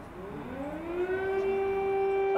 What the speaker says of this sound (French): Attention tout le monde, c'est les sirènes.